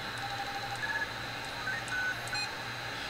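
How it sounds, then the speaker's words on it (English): A radio roger beep on a Stryker SR-94HPC radio: short electronic beep tones over steady radio static, a few brief high chirps scattered across the hiss. "So Roger beep 1 is this one here."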